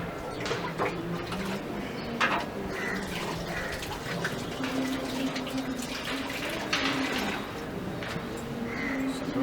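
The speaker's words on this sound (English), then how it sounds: "Water it like same way in circles, so that the water flows it to inside." Water poured in circles into lettuce and chilli plants growing in flower vases, a continuous trickling and splashing with a soft background hum and faint bird sounds.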